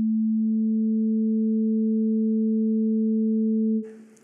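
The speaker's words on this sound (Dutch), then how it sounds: "Wat zou het geven als nu een computer twee sinusgolven van 220 en 440 hertz tegelijk genereert?" Two steady computer-generated sine tones at 220 and 440 hertz play together, a pure, loud, unchanging hum that holds for nearly four seconds before cutting off into a brief hiss.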